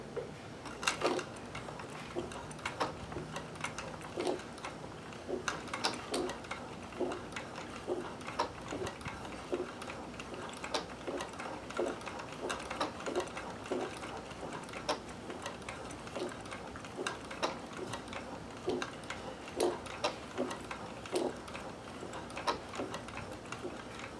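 A sewing machine fitted with a walking foot stitches elastic onto underwear, giving a steady run of fast ticking needle strokes at close range, with brief pauses and restarts throughout.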